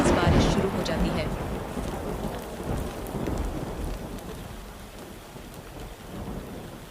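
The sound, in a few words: heavy rain with thunder and lightning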